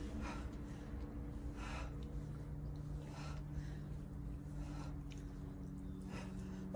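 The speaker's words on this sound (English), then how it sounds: "Hear me breathing." Heavy, rhythmic breaths are drawn and pushed out during a full-body workout with light weights, arriving in regular bursts roughly every second over a low steady hum, fairly close to the microphone and without talking.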